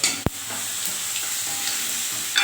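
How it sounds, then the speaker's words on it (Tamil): Urad dal and chana dal sauté in hot oil with a close, continuous crackling sizzle, punctuated by one sharp clack of a spoon against the pan right at the start. "ஸோ இதை நல்லா வதக்கி விட்டுக்கணும்"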